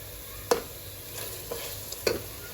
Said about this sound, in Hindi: अच्छी तरह मैं इसको पहले भून लूँ